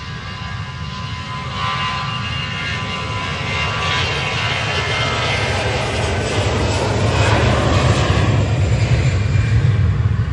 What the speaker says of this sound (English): Thomas Cook A330 lining up.